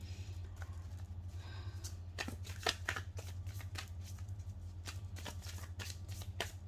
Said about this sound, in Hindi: ये कार्ड्स मैंने उल्टे ही रखे थे ऑन, चलिए मैं इसको पहले सीधे कर लेती हूँ